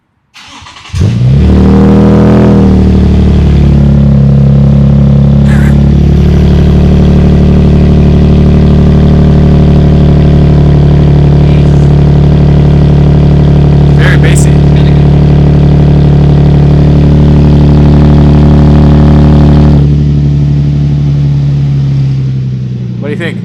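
A 2022 Toyota Tundra fitted with a Carven cat-back exhaust cranks and fires, then settles into a loud, deep, steady idle close by for about twenty seconds before the rumble eases off.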